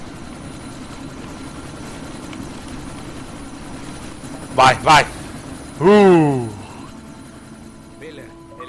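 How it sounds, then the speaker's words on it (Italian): Helicopter in the video game Deus Ex: Mankind Divided, a steady low rotor and engine drone running throughout beneath brief bursts of gunfire and shouted voices. "elicottero neutralizzato"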